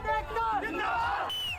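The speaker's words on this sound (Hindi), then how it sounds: "किसान एकता जिंदाबाद के आप नारे सुन सकते हैं" Protesting farmers outside an NTPC plant chanting slogans in unison, a loud crowd of voices shouting together, with higher shouts rising above the chant.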